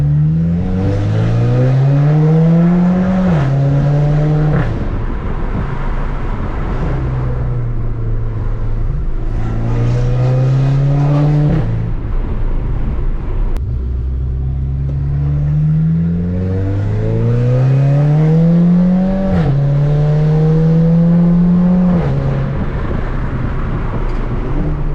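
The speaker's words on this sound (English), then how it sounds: "I'm only sending it in second and third gear because there's too much traffic, man." Stage 2 tuned VW Golf GTI accelerating hard through second and third gear in traffic, engine note climbing repeatedly in loud, close rising sweeps with brief drops at each shift.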